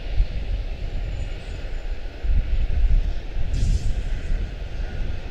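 A CRJ900 regional jet departs Charlotte-Douglas International for LaGuardia, its engines a steady, fairly distant roar that swells slightly around the middle, with no talking.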